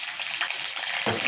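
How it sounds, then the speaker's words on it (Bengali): Onions frying in hot oil until reddish-brown, a steady close hiss of sizzling with a louder burst near the end, no voices. "পেঁয়াজটা আমার লাল করে ভাজা হয়ে গেছে"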